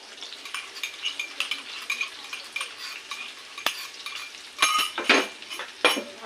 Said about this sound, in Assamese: এতিয়া থেতেলিয়াই লোৱা আদা ৰচুনখিনি মই দি দিম।